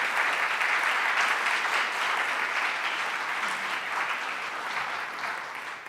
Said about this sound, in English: Let's give Paul a round of applause for his excellent performance.